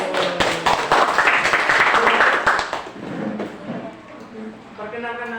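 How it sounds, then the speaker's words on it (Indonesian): Classroom applause from a group of students, a dense burst of clapping for about three seconds that thins out and fades, with a teacher's voice speaking over the end. "Kita kasih tepuk tangan dulu."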